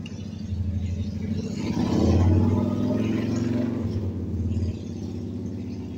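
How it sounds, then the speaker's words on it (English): Motorcycle engines idle nearby with a low, lumpy rumble that swells briefly mid-way and then settles. "let's start up these motorcycles and just let them run so they can hear them run"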